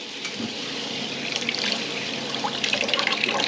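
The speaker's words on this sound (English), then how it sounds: "So we're going to go ahead and run some more water through this thing." Water runs steadily through a Camplux Nano 3 Pro portable water heater, a continuous close hiss and splash of flowing water that grows slightly louder and more splashy toward the end.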